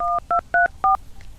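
Telephone keypad dialing tones: four short, clean DTMF beeps in quick, slightly uneven succession, close and clear, with no talk.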